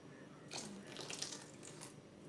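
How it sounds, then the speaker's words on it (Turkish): Grape vinegar pours into a spicy tomato ezme pickle, a soft trickling splash that begins after a brief pause and runs quietly to the end. "üzüm sirkemi ilave ediyorum."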